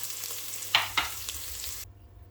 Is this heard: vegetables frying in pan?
yes